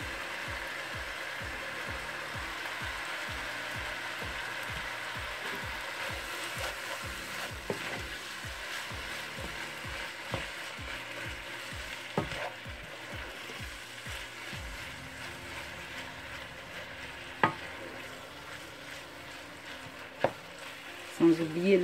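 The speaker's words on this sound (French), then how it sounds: "Ici j'ai 3 oignons moyens que j'ai découpés. Je viens y mettre la moitié." Chopped medium onions sizzle steadily in a pan for a Bolognese sauce, with a continuous fry hiss and rapid stirring scrapes in the first half, then a few isolated clicks and knocks later.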